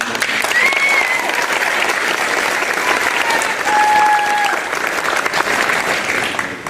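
A school event audience claps together in sustained, loud applause for two women, with a few brief whistles rising above the crowd's clapping.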